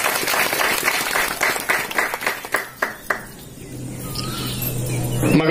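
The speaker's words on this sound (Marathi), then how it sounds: "जोरदार टाळ्या वाजवा, जोरात जोरात टाळ्या वाजवा." A crowd at a Bhim Jayanti village gathering in Tervan, Rajapur, applauds steadily for about three seconds, then trails off into a few scattered claps before a quiet stretch with a low hum.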